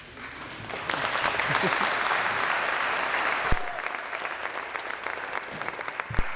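An audience at a celebration event honouring a group of men breaks into sustained applause, a broad, even roar of many clapping hands with a few sharper claps standing out near the end.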